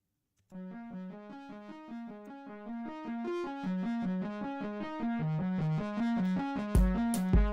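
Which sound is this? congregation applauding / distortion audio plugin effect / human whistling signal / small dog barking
distortion audio plugin effect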